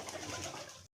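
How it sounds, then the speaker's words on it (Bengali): Domestic pigeons cooing on a farm, a close, steady murmur of soft throaty coos lasting about a second with no talking. "এই তো দেখেন মাশাআল্লাহ, কবুতরগুলো ভালোই হয়েছে"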